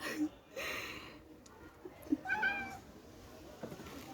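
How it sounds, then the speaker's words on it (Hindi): A house cat meows indoors, a few short mewing calls standing out over a steady room background while someone talks nearby. "जाओ, देखो मेरे घर की बिल्ली है।"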